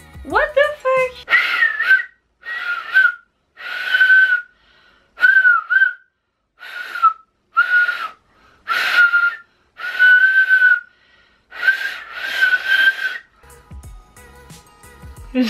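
A girl attempting to whistle produces breathy, hooting tones like an owl, in about a dozen short separate bursts with gaps between them, close and fairly loud, ending with a brief faint rustle.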